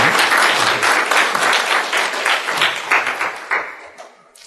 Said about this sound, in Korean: 박수 한번 보내주실까요?